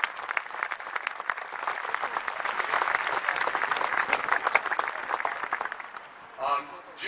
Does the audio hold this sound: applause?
yes